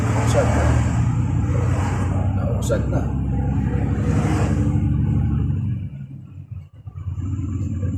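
Heavy road traffic with trucks at the Al Khabir road corner in Taif city, a loud continuous low rumble of engines that drops off and briefly quiets near the end before the noise returns.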